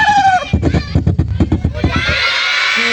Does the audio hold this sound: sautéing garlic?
no